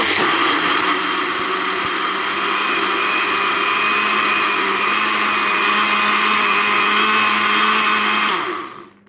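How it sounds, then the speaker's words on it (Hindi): An electric blender runs steadily at high speed, whirring loudly and close while mixing egg halwa ingredients, then winds down and stops at the end. "सब चीज़ों को अच्छी तरह से ब्लेंड कर लेंगे।"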